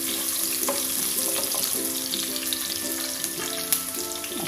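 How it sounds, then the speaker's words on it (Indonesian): Garlic frying in a pan for tofu cooked with tauco makes a continuous close sizzle, broken by scraping stirs, with faint tonal sounds underneath. "Masukin bawang putihnya ya ibu-ibu."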